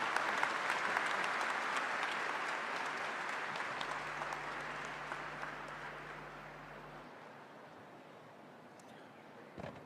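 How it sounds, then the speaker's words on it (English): Applause from a large audience at a spiritual festival event honouring the President, dense sustained clapping that starts loud and slowly fades over several seconds before dying away. "one good applause for our Madam"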